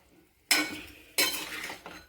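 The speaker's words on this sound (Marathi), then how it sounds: "बटाटे हे फोडणीमध्ये टाकून झाल्यावर असे छान मिक्स करून घ्यायचे पूर्ण" Potatoes being stirred into a spiced tempering in a pan, two sharp scraping strokes with a short sizzle after each and a third, softer stir at the end.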